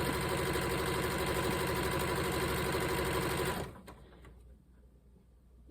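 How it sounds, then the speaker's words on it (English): A sewing machine runs steadily through quilt block fabric for a beginner's easy nine-patch block, a loud continuous mechanical whir that stops abruptly partway, leaving a quiet low hum. "Once you start sewing, you can kind of get into a groove once your fabric is lined right up."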